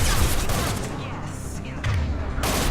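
Rapid gunfire bursts from a Krogan in the video game Mass Effect 2, dense and loud throughout, with a brief voice heard amid the shooting.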